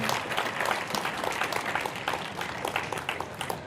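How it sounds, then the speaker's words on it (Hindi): An audience at a Chhattisgarh Vishwakarma Jheriya Lohar community youth introduction gathering claps in welcome, with dense, continuous applause from a large crowd filling the whole moment. "ताली बजा के स्वागत करें"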